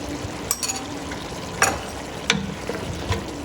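A spoon stirs mutton karahi in a pan, with a continuous sizzling fry underneath and several sharp metallic scrapes and clinks against the pan, loud and close.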